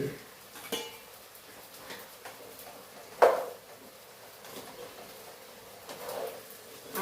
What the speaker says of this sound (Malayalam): ഇടയ്ക്ക് ഇതൊന്ന് ഇളക്കി നോക്കാൻ മറക്കണ്ട നമ്മുടെ പച്ചക്കറി